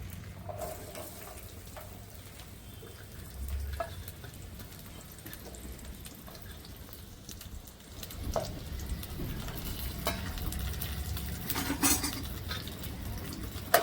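Small chopped onions stirred in a pan and lightly fried with a little oil, quiet sizzling under repeated scrapes and clinks of a utensil against the pan, growing busier toward the end, no voices.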